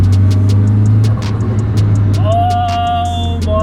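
A Nissan S15 engine with a turbo hums steadily, close and loud from inside the car, with a rising whine near the end while a voice exclaims over it.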